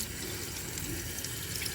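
Water runs steadily through a dishwasher spray arm jet during cleaning, a continuous close hiss and gush like a running tap, with no voices.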